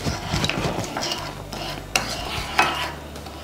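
A spoon stirs a boiling mixture of sugar, fish sauce and water in a pot, with a steady bubbling sizzle and a couple of sharper scrapes against the pan, close and clear.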